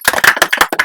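A short burst of hand clapping, about five or six quick claps in an uneven rhythm, close and fairly loud, with no talking.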